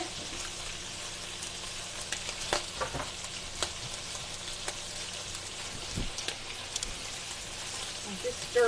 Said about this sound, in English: I'm just stirring these dumplings just a little bit.